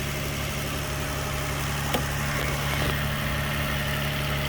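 A Nissan Maxima engine idles steadily and continuously up close, a constant low hum and drone with no talk.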